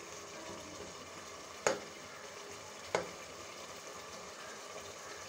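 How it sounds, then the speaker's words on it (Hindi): Chicken roasting in spice masala in a pot, a soft steady sizzle and bubble with two sharp spoon knocks against the pan. "ये देखिए हमारा मसाला सारा चिकन के साथ भुनना शुरू हो गया।"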